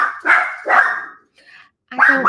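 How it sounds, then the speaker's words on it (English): Several dogs bark in loud, excited bursts, three clusters of barks with a brief quieter gap between them, close by in a home setting. "My dogs are going crazy."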